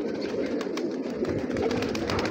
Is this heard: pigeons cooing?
yes